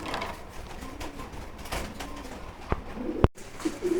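Indian white Lotan pigeons at a breeder's farm give soft, low coos amid faint background rustling and a few sharp mechanical clicks, with no speech.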